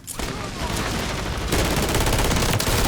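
Sustained automatic gunfire in the Warzone video game, a dense continuous rattle that starts abruptly, keeps up without pause and grows louder midway through.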